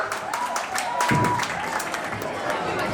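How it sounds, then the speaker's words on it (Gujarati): Audience clapping at an institute's annual function, a dense, steady patter of many hands filling the hall at moderate loudness, with crowd noise and voices mixed underneath. "અરે ભાઈ જોરદાર તાળીઓ થઈ જાય હો"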